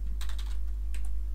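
Quick, light keystrokes on a computer keyboard, a short burst of several taps followed by a couple more, close and fairly quiet.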